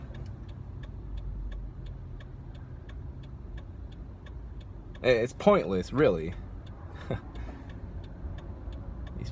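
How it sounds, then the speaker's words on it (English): Steady low rumble of cars passing on a nearby road runs through the whole stretch, with a faint regular ticking on top and someone speaking briefly midway. "These fucking cars."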